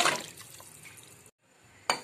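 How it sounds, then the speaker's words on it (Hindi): About two litres of water poured into a cooking pot for boiling a whole chicken, a splashing liquid gush close by that stops abruptly, followed by a brief clatter. "कम से कम 2 लीटर पानी डाल रही हूं इसमें मैं अपना"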